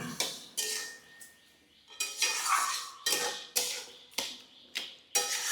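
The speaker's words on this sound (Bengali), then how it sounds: "এবার এটাকে একটুখানি নাড়ব" A spatula stirs sugar into tamarind and sweet potato chutney in a metal pan, with a series of close, loud scraping and clinking strokes in an uneven rhythm and short pauses between them.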